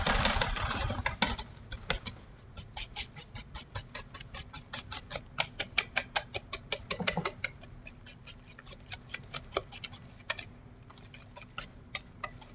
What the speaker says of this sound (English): So I have my wire whisk, and I'm going to just break up my jelly.